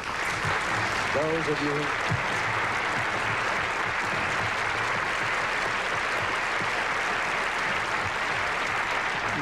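Audience applauding performers at an all-star party honoring Ronald Reagan; steady, even applause fills the clip, with a brief voice speaking near the start.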